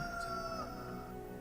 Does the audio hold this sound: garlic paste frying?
no